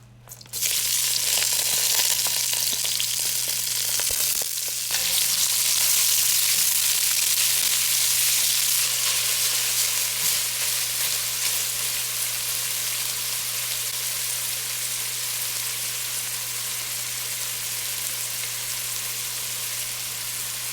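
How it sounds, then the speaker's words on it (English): Onions and garlic hit hot oil in a pan for sauteed bitter melon with shrimp, letting out a loud, sudden hiss that settles into a dense, continuous sizzle with a few stirring clicks, no voices. "once the oil gets hot, add the onions and the garlic"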